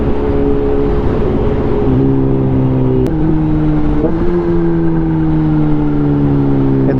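Kawasaki ZH2 motorcycle riding through traffic, its engine droning loudly and steadily up close while the pitch shifts up and down between gears, with no talking.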